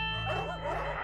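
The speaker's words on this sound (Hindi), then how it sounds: "आज कुत्ते कितने भौंक रहे हैं," Dogs bark at night around a residential housing society, a short burst of yelping barks at moderate distance layered over a steady low background hum.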